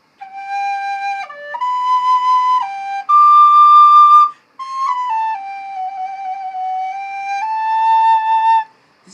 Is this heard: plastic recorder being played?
yes